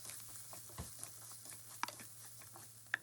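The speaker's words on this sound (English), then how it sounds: "just give it a good stir for the spices to come alive" Spices sizzle softly in a frying pan while being stirred, with turmeric, coriander powder, garam masala and salt in the pan. A faint steady hiss runs under a few light scrapes and ticks of the spoon.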